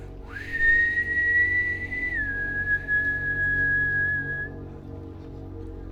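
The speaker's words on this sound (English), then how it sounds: "Not the whistle!" A single sustained whistle blast, loud and close, holding one steady pitch before dropping slightly lower and fading out after about four seconds, over a low background hum.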